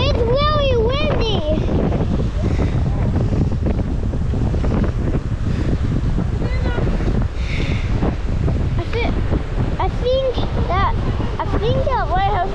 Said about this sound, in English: And in here, it's really windy.